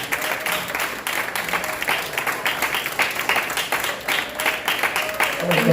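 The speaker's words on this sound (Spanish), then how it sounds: "Alguien dé un aplauso a Dios." A church congregation claps and cheers, the applause dense with distinct rhythmic clap bursts and crowd voices mixed in, fairly loud and close throughout.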